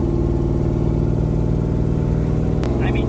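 Chevy S10 pickup with a big 80mm turbo runs at a rough, loping idle with a deep pulsing rumble, close and loud, and a brief sharp click near the end.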